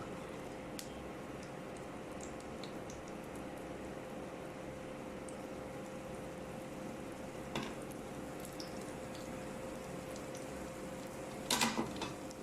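Shami kabab mixture fries in hot ghee in a large pan, a steady, even sizzle throughout with a brief clatter of utensils near the end.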